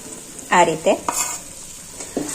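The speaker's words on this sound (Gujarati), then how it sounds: "આ રીતના તમે ઘી એડ કરતા જશો અને લોટ શેકશો" Flour roasting in ghee in a pan for adadiya sweets, stirred with a spoon: a few short scraping strokes with soft sizzling, brief bursts separated by quieter gaps, close and fairly clear, no talk.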